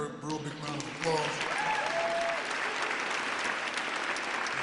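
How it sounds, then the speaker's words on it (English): Audience applause for Pennsylvania Governor Josh Shapiro at a Philadelphia event, a broad steady wash of clapping that swells after a short spoken lead-in and holds loud and continuous to the end. "Give him a real big round of applause."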